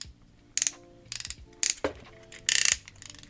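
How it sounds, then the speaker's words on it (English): Soft ratchet joints on an X-Transbots MX-45 Masterpiece Bonecrusher robot toy click in several short bursts of rapid plastic ticks, close and crisp, separated by brief pauses with faint handling creaks between. "He has soft ratchets front and back."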